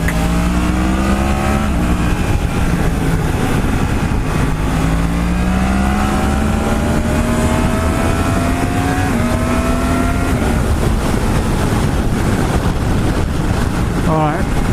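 A Yamaha MT-10 SP (FZ-10) motorcycle accelerating hard on Bridgestone S20 tyres, its engine note climbing steadily in pitch beneath heavy, constant wind rush.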